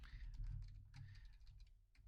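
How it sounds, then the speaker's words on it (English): Soft, irregular clicking of keys being typed on a keyboard, quiet and close, over a low steady hum. "why am I typing in?"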